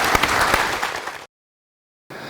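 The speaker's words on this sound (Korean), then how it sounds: "네, 큰 박수 부탁드립니다" An audience at a regional council meeting claps in a burst of applause, a dense close patter that cuts off abruptly, then starts up again after a short silence.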